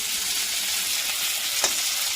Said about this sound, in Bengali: হালকা করে ভেজে রেখে লাল লাল করে ভেজে নেব আলুটা